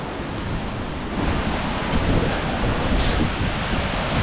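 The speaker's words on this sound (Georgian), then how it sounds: "ეს არის ლეხტახევის ჩანჩქერი." The roughly 20-metre Leghvtakhevi waterfall pours down, a dense, continuous rushing roar that stays loud and even throughout, with no talking.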